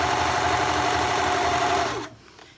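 A sewing machine sews a sleeve into a knit sweater, running in a steady close mechanical whir for about two seconds before stopping abruptly into quiet.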